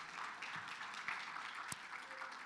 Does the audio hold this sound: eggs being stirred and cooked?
no